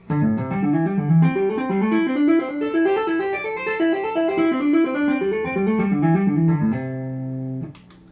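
Rapid two-hand tapping of a pentatonic pattern on electric guitar runs up and down in quick repeating cycles, ending on a sustained held note before fading out.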